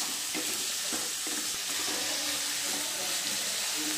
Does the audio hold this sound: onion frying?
yes